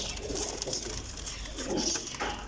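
Soft pigeon coos repeat a few times close by, with light bird calls over a faint background hum.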